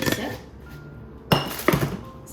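A spoon clinks against a bowl while mixing a Raffaello-style dessert of chocolate, cocoa and milk. Two or three sharp, close metallic taps stand out over a quiet background.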